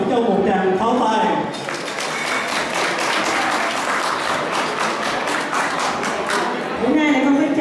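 An audience gives a singer a sustained round of applause, dense clapping lasting several seconds between stretches of someone speaking into a microphone at the start and end.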